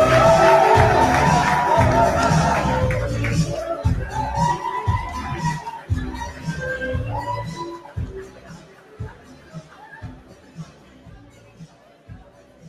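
An audience at a phone launch evening applauds and cheers, the loud clapping and whoops fading out over several seconds. Scattered chatter follows in the room, with a voice speaking toward the end.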